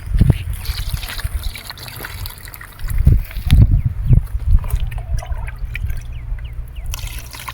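Water is poured into a solar light trap basin, a close trickling and splashing stream that swells in the middle and keeps dribbling with no talk.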